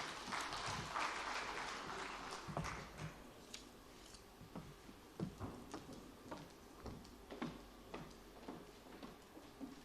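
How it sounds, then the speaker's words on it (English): An audience at a teachers' summit ceremony in Abuja gives a quiet round of applause that starts as a brief dense patter and thins into scattered, distinct individual claps. "Please, a round of applause for him."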